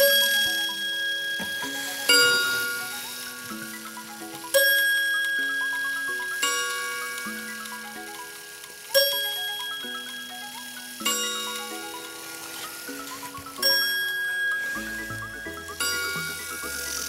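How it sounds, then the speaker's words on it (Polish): A Metron clock's chime mechanism, dirty and not working properly, strikes a sequence of ringing bell tones in repeated phrases, each struck note decaying slowly, ending with lower rattling strikes. "Możemy zobaczyć tą membranę oraz mechanizm od kurantów, który odpowiada właśnie za brzmienie."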